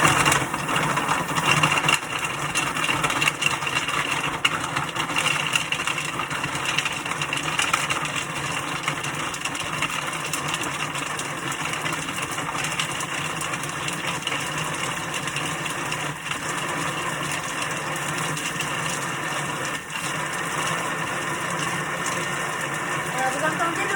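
A Thermomix running at speed 5, blending chocolate and banana for a frozen ice cream log, gives a steady, loud motor whir with a grinding texture that holds for the whole stretch, alone and without talk.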